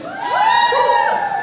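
A Comic Con Q&A crowd lets out a brief, loud cheer with rising whoops and shouts, a short burst of voices together.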